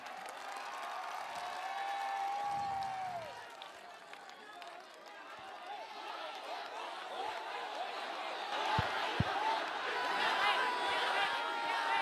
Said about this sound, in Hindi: एक बार अपने आप के लिए जोरदार तालियां